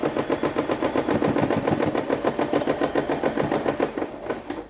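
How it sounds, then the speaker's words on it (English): A domestic sewing machine stitches steadily along the edge of fabric for a beauty pouch, a fast, even mechanical chatter running continuously at close range with no talking. "We can sew along the edge of the fabric."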